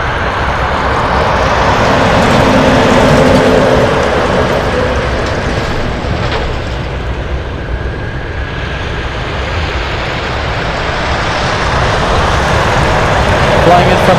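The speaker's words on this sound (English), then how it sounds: "This is the FedEx 777." A FedEx Boeing 777 freighter roars at an Anchorage airport, a broad, loud jet rumble that swells and eases over several seconds, with voices talking over it.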